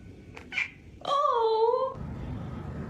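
A cat lets out one drawn-out, wavering meow, close and clear, after a couple of brief faint squeaks, with quiet room noise afterward.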